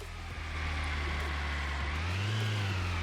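A car engine in the video game Contract Ville driving off to deliver trash, a steady low drone that rises slightly in pitch as it accelerates, continuous and fairly loud with no talking.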